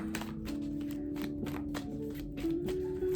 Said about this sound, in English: Okay, so we shuffled a little bit